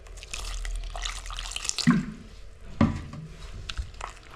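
Water is poured and stirred by hand into boondi for laddu in a home kitchen, with splashing, sloshing and a couple of louder slaps at close range.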